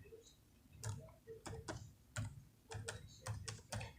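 Quick, irregular keystrokes on a computer keyboard as a name is typed into a Google search box, with crisp clicks in small bursts, close and moderately quiet, and no talking.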